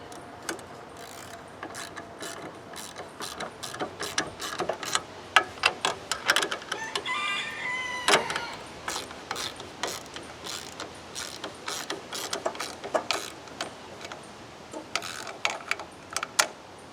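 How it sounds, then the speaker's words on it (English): Quick, dry clicking bursts from a 1/2 inch socket wrench being ratcheted on a Wheel Horse 520H garden tractor, close and fairly loud, coming in uneven runs with short pauses and no talking. "we got a 1/2 inch socket and wrench"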